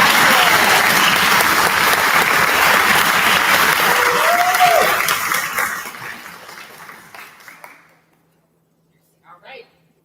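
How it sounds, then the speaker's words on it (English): Loud audience applause at a Symphonette concert, welcoming a performer named Madison, with a little voice mixed in; the clapping fades away around eight seconds, then a brief faint sound follows. "Please give a round of applause for Madison."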